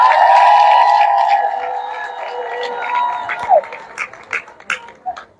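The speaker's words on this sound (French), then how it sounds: "Sous vos acclamations, s'il vous plaît." Loud cheering voices rise from the crowd at a union general assembly to greet an elder guest, then give way to a handful of sharp, scattered claps tapering off.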